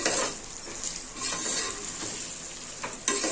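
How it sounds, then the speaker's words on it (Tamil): Raw rice fries in oil in a pan for coconut milk rice, giving a bright, continuous crackling sizzle with soft scraping and a couple of utensil clinks, close and unaccompanied by speech. "இந்த மாதிரி சல சலன்னு சவுண்டு வருது பாருங்கள் எண்ணெயில் வதங்கும் போது"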